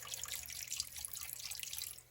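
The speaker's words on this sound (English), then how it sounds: "some white distilled vinegar that we're going to pour in here" White distilled vinegar poured over goat meat in a bowl while cleaning it for Jamaican curry goat, a soft steady trickle and splash of liquid that runs for about two seconds and then tapers off.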